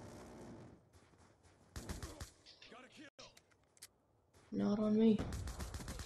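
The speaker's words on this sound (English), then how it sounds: "Minigun." A minigun in a team deathmatch video game spins up and fires, heard as loud sustained bursts of rapid gunfire mixed with other in-game shots, with a player talking over the action.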